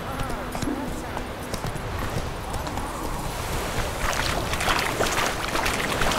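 Witcher 3 game audio of Geralt's horse Roach being ridden, with rhythmic hoofbeat clip-clop running through the clip, growing a little louder near the end, alongside someone talking.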